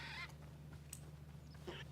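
Clucking, chirping creature calls from tetra birds, dinosaur-like creatures in the video game Hytale, heard as faint, scattered short cries over a low steady hum.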